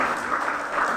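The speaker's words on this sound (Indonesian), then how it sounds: "kita berikan tepuk tangan yang meriah untuk kelompok 3" Classroom applause for a student group after its presentation, a steady dense patter of many hands clapping at moderate loudness throughout, with no talk over it.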